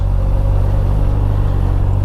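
Heavy road traffic in a jam around Yekaterinburg, heard from a scooter rider: a loud, constant low rumble of idling and creeping engines close by, with no talking.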